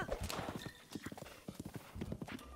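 Hooves clip-clop in a quick, steady galloping rhythm from a horse in Breath of the Wild, fairly close and continuous for the whole stretch.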